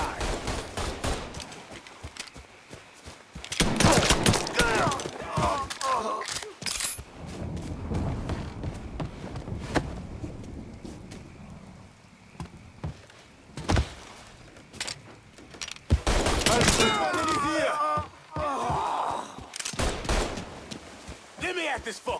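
Shotgun blasts and bursts of gunfire in the Mafia 3 video game, loud, irregular clusters of shots broken by short pauses, with shouting voices over the combat.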